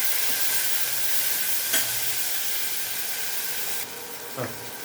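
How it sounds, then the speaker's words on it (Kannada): Onion and tomato tempering in hot oil produce a loud, continuous close sizzle with a couple of brief clinks of stirring, easing slightly toward the end. "ಇವಾಗ ಒಗ್ಗರಣೆ ಮಾಡ್ತಾ ಇದ್ದೀನಿ"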